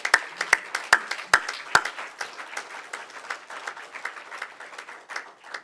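A church congregation bursts into applause, with several sharp claps near the start giving way to a thinner, scattered patter of hands that keeps going at moderate volume with no talk.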